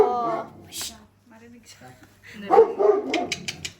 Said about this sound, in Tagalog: nag-ingay na yung aso